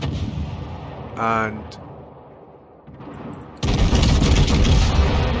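Heavy naval guns of the battlecruiser HMS Hood fire in World of Warships, a short burst of rapid thuds followed after a pause by a loud sustained roar of gunfire, with someone talking over it.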